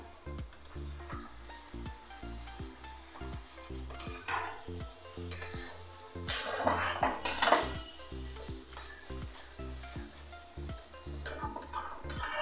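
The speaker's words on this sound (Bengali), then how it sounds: "এবার আমি দিয়ে দেবো পটলগুলো।" Pointed gourds tipped into a pan, heard as a couple of scraping, clattering bursts of vegetables and utensil against metal over a soft, steady rhythmic background hum.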